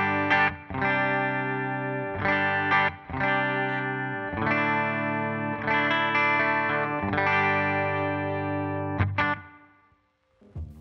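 Distorted electric guitar chords played through Helix Native amp simulator software on a Fender Twin Reverb-style preset, strummed in bursts with a chorus shimmer, each chord ringing out before the next, ending on a fading note.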